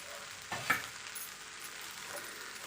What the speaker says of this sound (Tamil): சாதத்தை போட்டு நல்லா கிண்டிக்கலாம்.